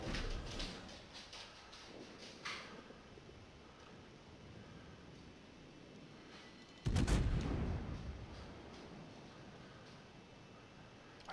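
A gunshot fired in a video game sounds as one sudden loud boom with a rumbling tail about two-thirds through, set against low steady background noise with no voices.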